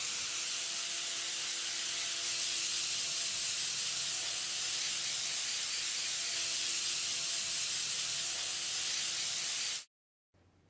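A steam spotting gun blasts steam onto textile to lift mascara stains over a suction table, making a loud, steady close hiss for about ten seconds before cutting off abruptly.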